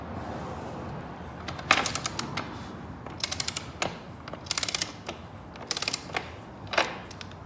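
A big old-fashioned torque wrench loosens the axle adjuster on a Kawasaki Z900 motorcycle. Close, sharp ratchet clicks come in irregular bursts of rapid ticking with short pauses between them.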